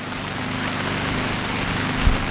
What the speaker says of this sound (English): We got some players embracing the rain out here on the field